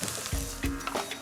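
Chorizo, onions, garlic and thyme fry in a pan with a close, crackling sizzle, punctuated by a few soft knocks of stirring.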